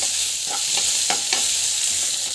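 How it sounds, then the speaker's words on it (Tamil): Onions and green chillies sauté in a pan, giving a steady faint sizzle with several soft scraping stirs of a spatula spread across a couple of seconds, with no voices. "பச்சை மிளகா போட்டு வந்து அதிகமாக இருந்தாலும் பரவாயில்ல. ஸோ நல்லா வந்து வதக்கிக்கோங்க."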